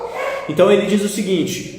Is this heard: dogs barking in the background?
yes